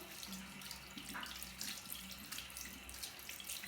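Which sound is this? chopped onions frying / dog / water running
water running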